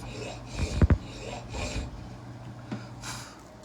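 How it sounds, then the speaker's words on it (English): A triangle file rasps against a smoothbore gun barrel while a barrel tenon is being fitted. Several short, close scraping strokes come in an uneven rhythm with quiet gaps between them. "This is where we sit now after filing with our triangle file."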